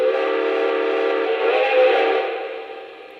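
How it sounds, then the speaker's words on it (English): The whistle of a Lionel 773 New York Central Hudson model steam locomotive sounds as one long, steady, loud tone that fades slightly toward the end. "And what about that iconic whistle?"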